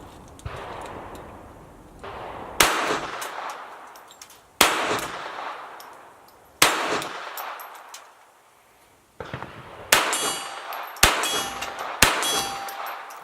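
A Ruger SR22 pistol fires about half a dozen shots, each cracking into a loud metallic clang as it rings off a steel target, spaced a second or two apart and then coming faster near the end.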